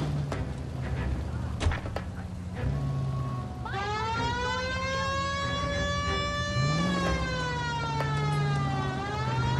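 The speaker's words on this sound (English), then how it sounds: "This would be a good time for the siren." A police car siren in the video game L.A. Noire starts up and wails loudly with rising and falling tones over steady engine noise, heard up close.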